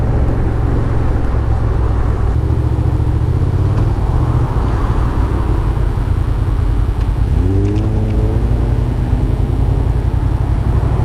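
A loud, rumbling Jeep engine roars steadily nearby, then revs up with a rising whine as it accelerates.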